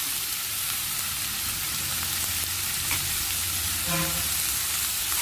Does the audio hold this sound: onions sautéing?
yes